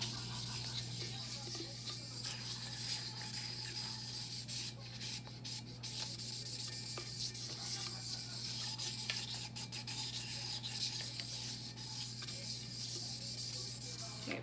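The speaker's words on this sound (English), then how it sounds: "Just make sure it's really good sanded." A plastic cup is rubbed down with sandpaper before a temporary glitter tattoo is applied, producing a continuous close scratchy rasp with steady back-and-forth strokes over a low hum.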